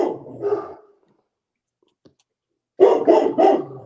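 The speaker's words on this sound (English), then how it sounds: "That's just the Chihuahua barking." A Chihuahua barking at home, sharp and fairly close, with a short bark, a quiet gap, then a quick run of three yappy barks.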